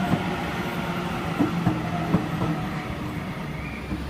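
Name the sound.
Armidale Moree Explorer train departing station platform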